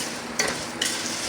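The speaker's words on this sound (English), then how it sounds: "we're trying to, brown, stirring the rice constantly" Rice for Mexican rice browns in a hot pan, with a soft continuous sizzle and two quick scraping strokes of a spoon stirring through the grains, close up.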